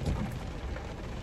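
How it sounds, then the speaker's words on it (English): Heavy rain pours outdoors, a steady dense hiss of water that fills the whole moment without pause. "Excuse the rain because it is pouring outside"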